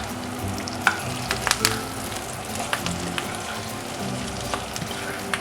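Curry leaves sizzle and crackle as they fry in a hot pan, a steady bed of frying noise broken by sharp pops and spits throughout, close and moderately loud with no talking.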